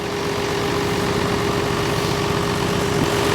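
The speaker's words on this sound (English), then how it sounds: "The microphone's pointed directly at the motor on the tractor, so you might be getting more engine noise." A tractor engine runs at a steady idle with the microphone aimed straight at the motor, giving a loud, constant low drone with an even hum and no pauses.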